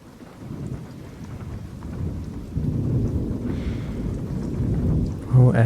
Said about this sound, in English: ugly as the storm is